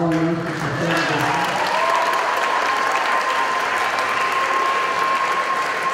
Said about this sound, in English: let's give a big hand to Mr. Garcia.